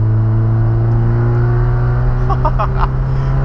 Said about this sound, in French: On est sur un moteur atmosphérique, bien entendu. Pas de turbo.